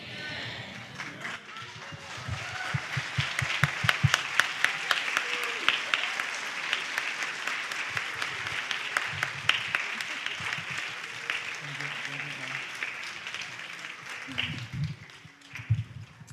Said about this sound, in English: Come on, church. Give her a round of applause.